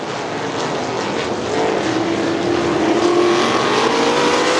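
Sprint cars race on a dirt track at Crystal Motor Speedway: a steady, loud engine drone with a rising whine as the pack passes, no talk over it.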